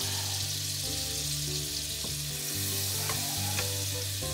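Butter and a little oil sizzle in a hot pan before veal shanks go in, a steady bright crackle with a low hum under it and a few soft knocks, without any speech.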